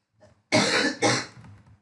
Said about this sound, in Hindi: तुम्हारी खांसी आज पूरे वीडियो में रिकॉर्ड हो गई।